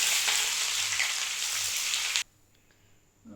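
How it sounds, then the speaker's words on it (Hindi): Onions hit hot oil in a pan for a homemade arvi gosht, with cinnamon and cloves already in it, giving a loud, dense sizzle that cuts off abruptly into near silence after about two seconds. "अब इसके अंदर प्याज डालूंगा फ्राई करने के लिए।"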